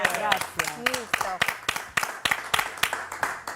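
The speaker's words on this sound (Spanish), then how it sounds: "las recibimos con un fuerte aplauso" Podcast guests are welcomed with rhythmic clapping, sharp evenly spaced claps from a small audience, heard over and after people talking.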